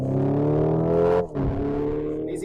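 A Hyundai Ioniq 5 N electric car plays its simulated engine sound in a custom mode, a loud, rising revving drone that cuts briefly for a faux dual-clutch e-shift before climbing again.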